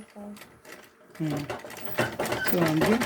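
A sewing machine stitches fabric for a Senegalese zarah cap in short bursts of quick whirring, close by, with a voice talking over it.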